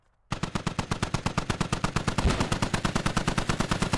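A heavy gun in the military video game Squad opens fire in a long, rapid, evenly spaced burst of loud booming shots that starts abruptly and keeps going without pause.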